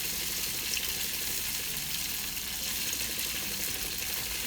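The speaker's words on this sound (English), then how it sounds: "Let's cook the tofu." Tofu frying in vegetable oil in a pan, a steady, even sizzle that carries on unbroken throughout, with no talking over it.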